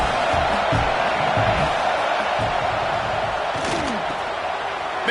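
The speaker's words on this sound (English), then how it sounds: "Crowd knows when to bring it." Stadium crowd at a college football game between BYU and Michigan, a loud, sustained roar of cheering with dull thumps and stomps, heard in a broadcast mix.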